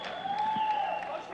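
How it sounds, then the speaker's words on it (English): Crowd noise from spectators at the 1995 World Taekwondo Championships in Manila during an Iran versus Turkey bout, a continuous, fairly distant din with a steady high sustained tone running through it. "the crowd cheering, each on the each for their own favorite fighters, teams"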